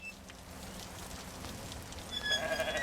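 Soft bleating of a goat on a small farm in The Stillness of the Wind, faint and brief against a low ambient bed with some tonal music near the end.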